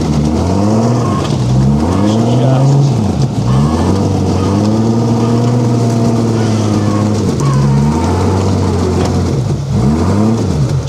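A rock crawler's engine revs hard while spinning its tyres to warm them at a rock-wall event, a loud, close, buzzing motor rising and falling through repeated throttle blips over about eleven seconds.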